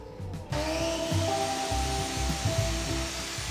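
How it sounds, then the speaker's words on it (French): A power saw with a fibre cement siding blade cuts through fibre cement cladding, a steady whining drone starting abruptly and holding at a constant level with a low rumbling undertone, close and loud. "Pour les références de la lame pour couper le bardage en fibrociment,"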